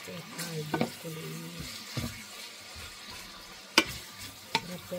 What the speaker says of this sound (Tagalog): Ito natin sa ating stir fry broccoli.